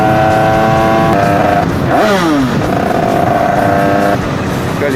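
Derbi 88cc Stage6 moped engine, loud and close, holding a steady buzzing drone, then rising and dipping in pitch around the middle before settling back into a sustained high rev.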